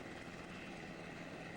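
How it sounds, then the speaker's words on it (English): A helicopter flies overhead above a boat near South Beach, a steady broadband rotor and engine roar that stays even and moderately distant throughout. "I don't know if the chopper action disturbs the boat"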